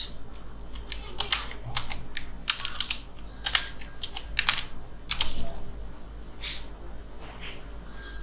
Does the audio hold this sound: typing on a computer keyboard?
yes